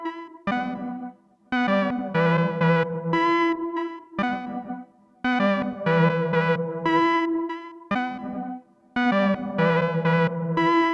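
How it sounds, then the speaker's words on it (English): Distorted electric guitar phrases through a Pladask Elektrisk Kniv feedback pedal in an effect loop, chorus-like, played in bursts separated by brief pauses, loud and processed. "as you can hear, you still got the feedback, well, effect loop still in play"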